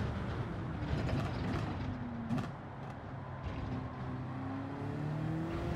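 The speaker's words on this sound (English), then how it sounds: "Check out the gears, listen to the downshifts." Car engine in Gran Turismo 7 running through a series of downshifts, with rising revs, mechanical clunks and gear changes, moderately loud and continuous with no talk.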